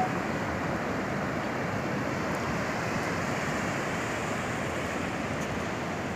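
Ocean surf at Praia do Recreio beach in Rio, in front of Pedra do Pontal, forms a steady broadband wash of breaking waves, constant and moderately distant with wind noise and no voices.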